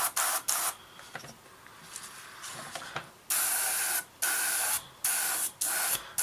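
An airbrush sprays thinned paint onto a Hobbycraft 1/48 P-36 model in close, loud hissing bursts that start and stop in a steady rhythm, with quieter stretches between.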